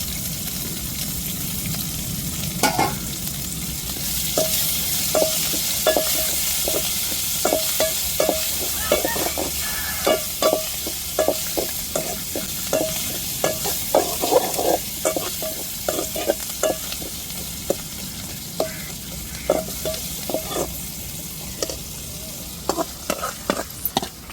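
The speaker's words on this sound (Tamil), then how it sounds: "இப்போ மல்லித்தலையும் போட்டு வதக்கிக்கிடுவோம்" Curry leaves and coriander stir-fry in hot oil for a Tamil mutton kuzhambu, with a constant close sizzle. Quick, uneven spatula scrapes and taps sound against the pan throughout.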